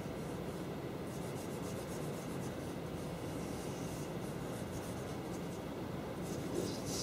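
Pencil or marker sketching by hand on paper during a graphic design lecture, a steady soft scratching and rubbing that runs continuously and close, fairly quiet, with no talk over it.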